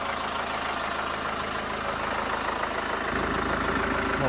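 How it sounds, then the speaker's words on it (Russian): A Mercedes-Benz Vito 115 van engine idles steadily and evenly, a constant close mechanical hum with a faint rustling from a new belt, pump and rollers and no speech. "Моторчик работает ровненько"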